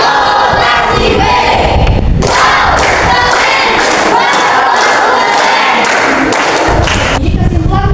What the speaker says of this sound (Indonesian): kita beri tepuk apresiasi buat diri kita semua